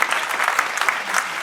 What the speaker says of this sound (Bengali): আমি জোরে হাততালি প্রবুদ্ধর জন্য।